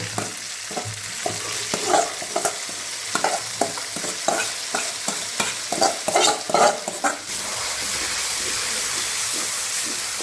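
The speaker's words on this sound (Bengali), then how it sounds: "মুগের ডালের সাথে মশলাটা একটুখানি কষিয়ে নেবো" Moong dal frying with spices in a pan for bhuna khichuri: a steady close sizzle broken by rhythmic scraping stir strokes, then a smoother continuous hiss, with no voices.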